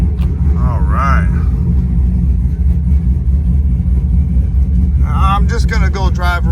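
A lifted Ram 1500 with a Hemi V8 rumbles steadily and loudly from the cabin while driving, a deep continuous low drone throughout, with brief bursts of talking over it near the start and end.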